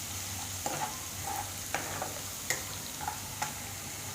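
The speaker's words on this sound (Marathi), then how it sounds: "आलं लसूण तेलात व्यवस्थित भाजलं पाहिजे." Ginger and garlic fry in hot oil, a steady close sizzle broken by a few sharp scrapes and clicks as a spoon stirs the pan, cooking for chana masala.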